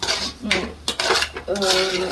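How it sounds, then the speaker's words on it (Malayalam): A spoon clatters and scrapes against a pot while sardine curry is mixed, a few distinct metallic knocks and rattles close up, ending in a sustained ringing scrape. "നന്നായിട്ട് മിക്സ് ചെയ്യാം"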